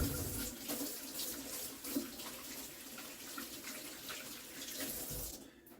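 Water streams steadily from a kitchen tap into a sink while hands are washed after shaping meatballs, a continuous close splashing rush that cuts off just before the end.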